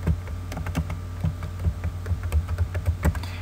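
Rapid typing on a computer keyboard, a close run of crisp, uneven key clicks with short pauses between bursts over a low steady hum; no talking.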